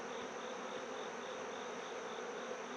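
Honeybees buzzing steadily at an opened hive during an inspection, with calm bees bearding at the entrance. The drone is dense and continuous, close and even throughout.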